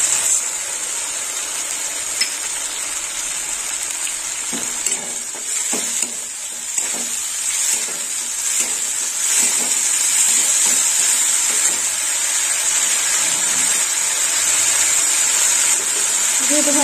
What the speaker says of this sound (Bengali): মশলাটা একটু কষিয়ে নেব। মশলার জলটাও দিয়ে দিলাম।